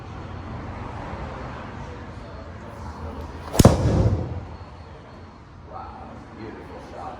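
A TaylorMade mini driver strikes a golf ball on an indoor simulator: one sharp, loud impact crack midway, then a brief fading rumble over a quiet room.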